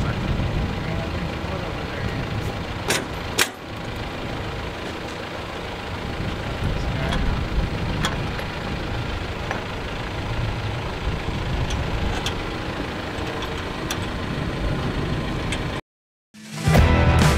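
A heavy tractor engine idles and rumbles steadily for a long stretch, with occasional clanks and knocks, ending in a brief silence before the noise returns.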